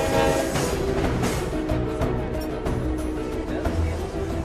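Heavy rumble of a 4,500-horsepower, 16-cylinder diesel locomotive pulling the Chepe train through Mexican canyon country, a loud continuous low drone with rattling cars and track noise.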